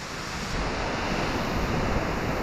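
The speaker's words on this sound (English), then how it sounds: "We found another waterfall! How amazing! Double waterfall!" A double waterfall at Springbrook roars as a steady, loud wash of rushing water with a constant, broadband texture and no voices.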